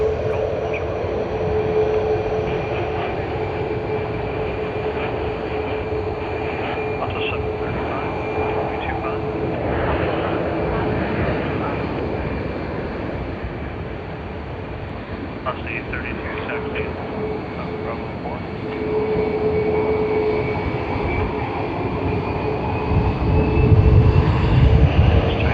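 A Batik Air Boeing 737 MAX 8 in Visit Malaysia 2026 livery at Sydney Airport produces a steady, loud jet roar with a thin whining tone that holds throughout and swells slightly near the end.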